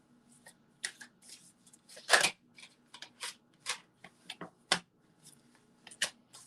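Tarot cards being shuffled in a quiet room, a series of sharp riffling bursts and softer card slides at irregular intervals, close and isolated with no talk.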